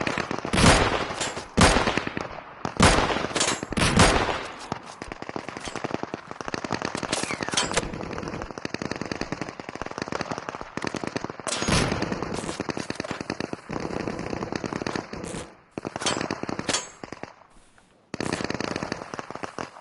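Repeated bursts of gunfire from a damaged gun in the shooter game Deadside, loud, close and sharp, with dense volleys and short gaps between strings of shots, a few pauses near the end.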